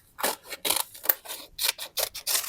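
Scissors snip through folded paper in a craft setting, a quick run of about nine crisp, close cuts with short pauses between, heard alone with no talking.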